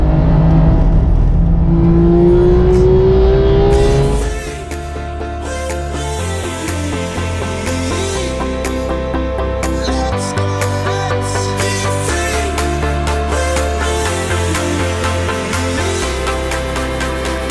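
A Porsche GT3 engine revs hard while driving, with a rising whine and a downshift blip, then settles into a loud, steady, rich drone with mechanical whir and no talk.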